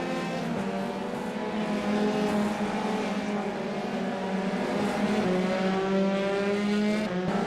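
An F3 race car engine in the iRacing sim, loud and steady near-constant revving with shifting tonal lines as the car accelerates, no voices over it.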